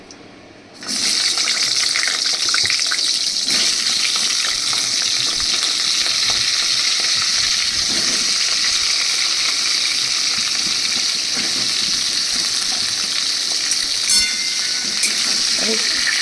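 Pointed gourd pieces fry with a pinch of asafoetida in hot oil, giving a loud, steady sizzle that starts suddenly and then holds for the whole stretch, with faint stirring and scraping in the pan.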